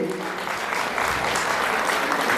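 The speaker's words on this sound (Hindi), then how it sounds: "और मातृशक्ति के लिए मातृशक्ति के द्वारा तालियां बजनी चाहिए।" An audience claps at the Basant Panchami fair at Kanvashram, Uttarakhand, producing a brisk, dense burst of many hands that stays steady and fairly loud, with a brief voice at the very start.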